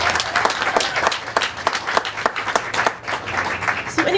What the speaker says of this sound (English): Let's give Dickies and BA Entertainment a round of applause.